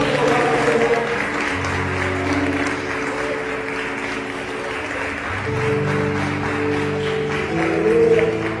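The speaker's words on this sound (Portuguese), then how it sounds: "Pode aplaudir ao Senhor." A church congregation applauds the Lord during worship, with a sustained wash of clapping over sung or spoken voices and a low musical drone, swelling slightly toward the end.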